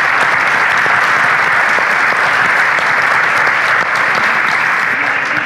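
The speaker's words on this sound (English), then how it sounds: "I want to give a round of applause to our panelists" An audience applauds panelists at a DEI conference session, giving steady, dense clapping that fills the room at full loudness for the whole stretch without letting up.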